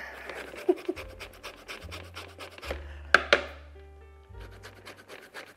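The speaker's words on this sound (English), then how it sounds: "So I'm gonna get a little workout to get the zest off this orange." An orange is scraped by hand to remove its zest, making a steady rhythmic rasping with a few sharper scrapes and heavy breathing throughout.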